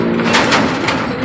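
Racing pigeons landing at their loft coo close by, soft throaty calls over a steady hum of background noise.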